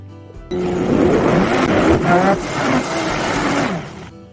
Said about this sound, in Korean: 육수를 넣고 갈아 주겠습니다.